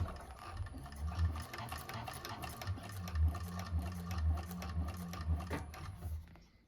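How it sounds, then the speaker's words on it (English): A 1341 cylinder-arm sewing machine stitching across a bag, its needle running in a quick, steady mechanical rhythm that swells a little at times and stays close and fairly quiet, with no talk. "Hopefully you can see, but you're just sewing across."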